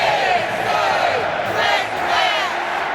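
Arkansas Razorback fans at a Texas at Arkansas football game call the Hogs in a massive stadium chant, a loud drawn-out crowd roar with rising "Woo" swells.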